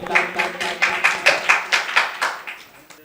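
Audience at a Diwali singers' award ceremony claps in a steady, rhythmic burst of about a dozen distinct hand-claps, fairly close and even, tapering off at the end with no talking over it.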